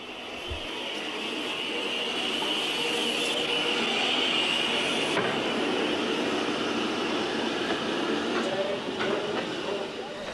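Southern Railway S15 steam locomotive on a heritage line, a steady loud rumble of running gear and rolling wagons holding throughout without a break.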